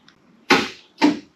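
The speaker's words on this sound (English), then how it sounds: "And that is the sound of the hatch." Two sharp mechanical clunks about half a second apart, close and crisp, each trailing off quickly, as the hatch latch of a 1987-1993 Ford Mustang releases.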